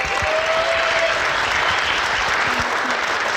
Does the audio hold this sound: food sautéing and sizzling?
no